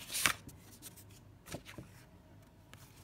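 Paper journal cards slid out of a small pocket, with a quick crisp rustle at the start followed by a few faint, sparse scrapes and taps of paper close to the microphone.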